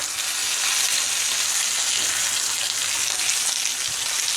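A bone-in steak sears in a hot cast iron or carbon steel skillet, throwing off a loud, dense, unbroken sizzle close up with no voices.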